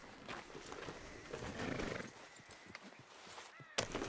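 A horse in Red Dead Redemption 2 clip-clops along at a steady walk, hooves thudding softly under a faint game ambience, with one sharper knock near the end.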